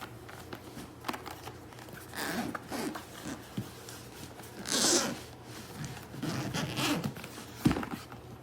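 Zipper on a BOBOVR C2 VR headset carrying case for Oculus Quest 2/Quest 3/Pico 4 drawn in several short, close scratchy runs, with rustling and handling noise in between.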